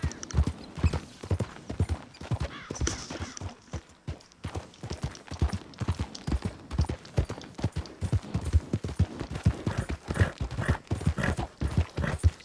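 Horse hooves clip-clop at a brisk, steady gait in Red Dead Redemption 2, close and clear, with a brief lull midway before the trotting picks up again.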